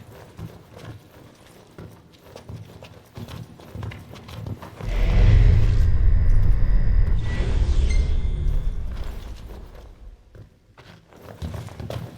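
Thunder during a lightning storm in Final Fantasy XV: a loud, deep rumble swells midway and slowly fades over several seconds, with softer ambient game noise before and after.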